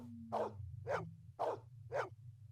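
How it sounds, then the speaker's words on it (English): Dog in the Blade Runner PC game barking four times at an even pace against a low steady hum, fairly faint and moderately distant. "Why the barking?"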